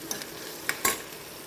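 Blood fry cooking with salt and turmeric in a pan, a low sizzle broken by a few quick spatula scrapes and taps as it is stirred, close by and without talk.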